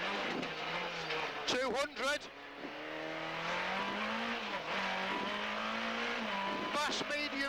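A Peugeot rally car on a stage of the 2011 Jersey Rally, heard from onboard: a steady engine drone rises and falls with gear changes, with brief tyre noise, under a co-driver reading pace notes.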